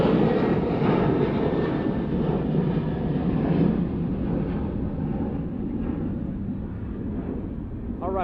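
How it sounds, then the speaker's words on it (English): An airplane passes overhead outdoors at a public gathering near the Tijuana River, making a loud, broad engine roar that holds steady throughout and slowly fades toward the end. "there's our plane."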